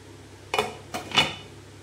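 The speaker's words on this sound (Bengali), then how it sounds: "এইবার এটাকে ঢাকনা দিয়ে ঢেকে দেব।" A lid set onto a pot of chana pulao produces two or three quick metallic clinks in close succession, near and distinct against a quiet background.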